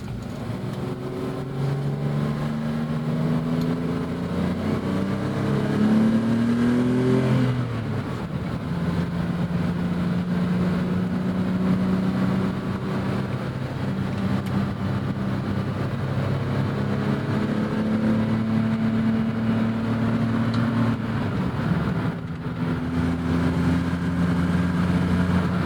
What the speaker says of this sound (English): You gotta love how smooth BMW inline six engines are.